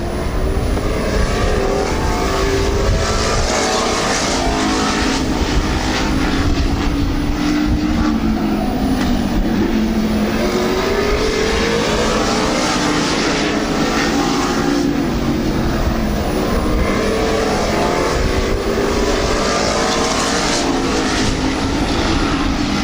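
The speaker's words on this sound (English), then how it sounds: "he's closing again, closing on the rear bumper of the race leader, Ron Daigg" Race cars roar around the oval at Midvale Speedway, running bumper to bumper for the lead, their engines a continuous loud drone that rises and falls in pitch as they pass.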